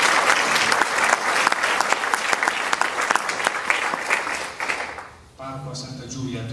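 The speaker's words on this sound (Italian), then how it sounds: "Applauso." Applause from the audience at an evening talk by a priest on early Christian conversion, steady and dense for about five seconds, then fading out as a voice begins.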